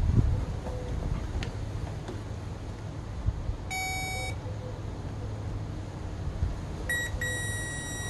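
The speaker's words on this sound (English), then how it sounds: "let me turn the ignition on and see if I get any power like that." A 1999-2007 Chevrolet Silverado's ignition is switched on, producing two short electronic chime beeps in a quiet cab over a low steady hum, the first midway and a second pair near the end.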